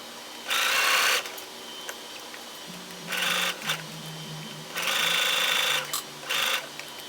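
A sewing machine stitches fabric for a cloche hat in short bursts: four runs of steady mechanical whirring, each lasting about half a second to a second, separated by quiet pauses and a few soft handling sounds.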